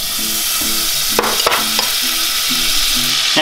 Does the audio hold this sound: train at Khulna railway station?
no